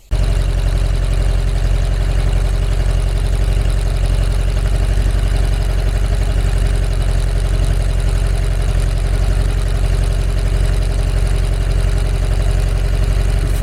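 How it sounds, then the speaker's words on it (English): VW T25 with a 2 litre air-cooled engine fitted with a Pict 34 carburettor, idling with a steady, even rumble for the whole stretch, close and loud with no talk. "if somebody wants to start the vehicle."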